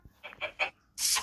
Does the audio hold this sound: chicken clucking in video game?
yes